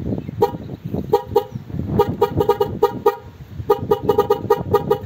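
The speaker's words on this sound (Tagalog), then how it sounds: "Tapos ibusina natin, naka-on siya." A shrill electric bike horn honks in a rapid string of short, repeated toots over a steady low hum, loud and close.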